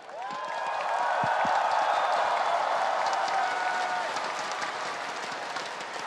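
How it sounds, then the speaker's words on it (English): Large esports arena crowd at the MSI 2025 League of Legends grand final between T1 and Gen.G bursts into sustained, loud applause with cheering, a dense roar holding steady throughout. "A round of applause for Shovi."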